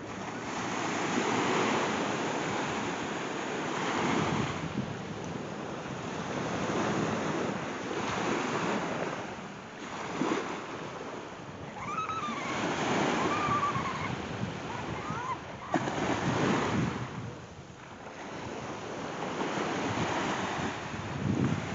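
Sea waves breaking on the beach at Santa Marta, Colombia, a continuous rolling surf with repeated swells rising and falling under strong wind buffeting the microphone, no voices.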